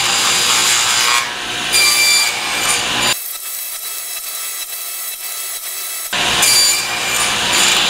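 Small wooden blocks being sawn to size, with two loud bursts of rasping strokes separated by a quieter pause with a faint hum, close and without speech.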